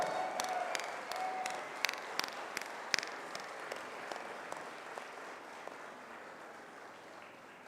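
An audience at the Ahmedabad Design Week 3.0 inauguration ceremony at Karnavati University applauds steadily, a fairly faint, even rush of many hands punctuated by a few sharper, louder claps, with brief cheering early on.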